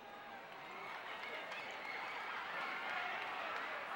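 A steady, distant-sounding roar of an arena crowd cheering for a robot fighter in the Robotics;Notes Elite video game, sustained and even, swelling slightly toward the end.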